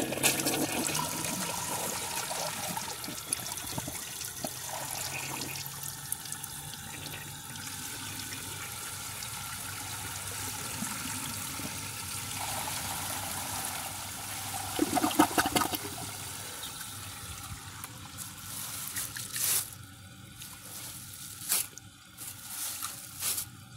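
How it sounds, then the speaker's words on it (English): A 2005 Kohler Wellworth toilet flushes five grocery bags, a sustained rushing and gurgling swirl of water with sucking surges and trickles near the end, heard close and without talk. "That was 5 bags in one flush."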